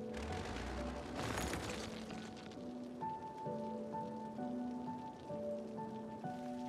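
Rain falls in the Cities: Skylines city-building game, a soft continuous patter under in-game music with sustained melodic tones, with a louder rushing burst early on.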